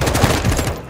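Gunfire in Call of Duty: Modern Warfare II, heard as a loud, rapid burst of automatic shots packed closely together for about a second.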